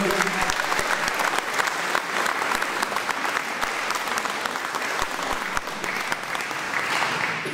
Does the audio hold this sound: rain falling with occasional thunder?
no